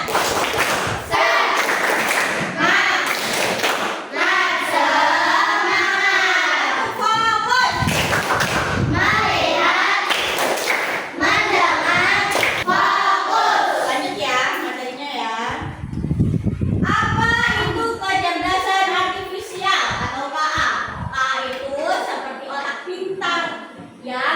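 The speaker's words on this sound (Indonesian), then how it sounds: "Tepuk semangat." Children doing a rhythmic spirit clap in a classroom, a series of loud patterned claps and thumps mixed with young voices chanting and talking throughout.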